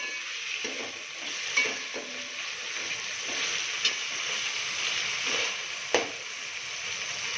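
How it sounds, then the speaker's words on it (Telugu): Ginger-garlic paste fries with tomato in a pan for a vegetable rice dish, giving a steady close sizzle with occasional soft stirring scrapes and a few sharper clicks, no voices. "టమాటో కొద్దిగా వేగిన తర్వాత అల్లం వెల్లుల్లి పేస్ట్ వేసుకోవాలి."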